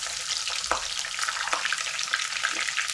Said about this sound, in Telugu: ఉల్లిపాయ కొంచెం వేగనిక.